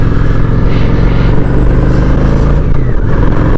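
Honda Shadow 750 ACE cruiser motorcycle engine pulling hard in its low band, a loud close deep rumble rising steadily in pitch as it accelerates, with no voices.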